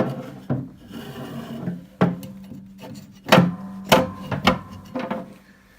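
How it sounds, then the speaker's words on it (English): A Porsche 914 front sway bar is fed through its mounting, producing a series of close scraping and knocking clunks, several sharp metallic bumps at uneven intervals with rubbing in between. "So I'll take the open side and feed that all the way through."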